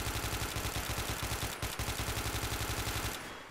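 Loud, rapid automatic gunfire in the Left 4 Dead 2 zombie shooter, a steady stream of close shots running almost without pause for about three seconds before cutting off.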